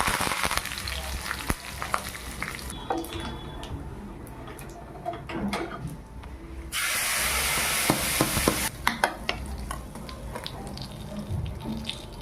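Mustard seeds, cumin, dried chillies and curry leaves crackle in hot oil for a chickpea chutney, with sharp pops over a sizzle that swells into a louder burst partway through and then settles back.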